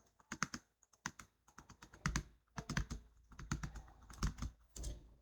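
Keys clatter on a computer keyboard in quick irregular bursts, close and clear with short pauses between runs of keystrokes, during an Excel spreadsheet task.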